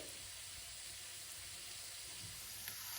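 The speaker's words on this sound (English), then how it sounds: "we've been sauteing our onions and peppers for about 5 minutes now" Onions and peppers sautéing over medium heat in a small pan give a steady, soft sizzle with faint steam hiss, continuous and fairly quiet, with no voices.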